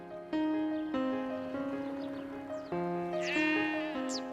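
Several sheep bleat by turns on pastureland bordering the Marchica lagoon in Morocco, with long wavering cries that overlap and follow one another closely, loud and near, with no talking.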